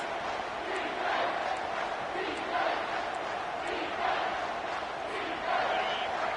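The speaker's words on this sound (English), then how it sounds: "the crowd coming to life here, trying to help this defense down in the red zone" A football stadium crowd roaring during a defensive stand in the red zone, a dense sustained wash of distant cheering and chanting that swells and dips steadily throughout.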